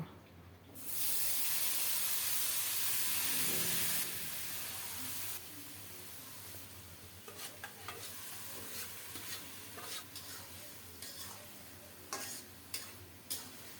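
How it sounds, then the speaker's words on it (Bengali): Dried chili and panch phoron spices crackle in hot mustard oil, beginning with a loud burst of sizzling hiss, then easing into a softer, steady fry broken by occasional sharp pops and spoon scrapes. "সরিষার তেলে একটা শুকনো মরিচ আর পাঁচ ফোড়ন দিলাম"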